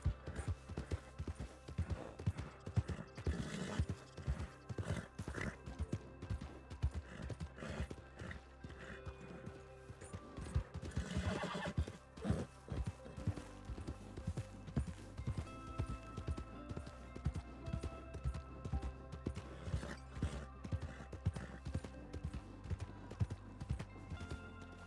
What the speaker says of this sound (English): Oh, there's a horse inside the bank.